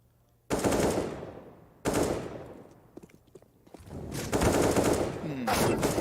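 Rifles and pistols fire in a CS:GO match at a major tournament, sounding as several loud, close bursts of rapid automatic shots separated by short pauses, with faint background noise between them.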